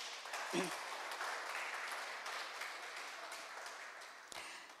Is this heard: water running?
no